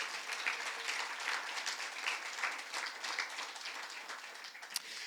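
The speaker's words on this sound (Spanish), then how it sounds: "Dale un aplauso a Dios." Sustained applause from a church congregation, a steady wash of many hands clapping at moderate distance, with no voices on top.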